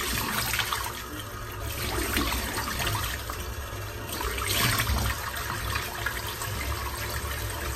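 Cold tap water runs steadily from a faucet into a sink while a face is rinsed after a shave, with continuous splashing and trickling close by and no talk.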